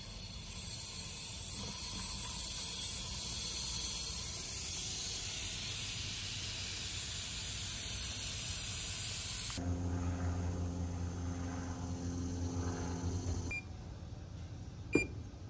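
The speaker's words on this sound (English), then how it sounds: "Now we can pressure test." Refrigerant hisses steadily under pressure from a Goodman air conditioning unit during a leak repair pressure test, a broad loud hiss that then drops to a lower humming tone, ending with a brief click.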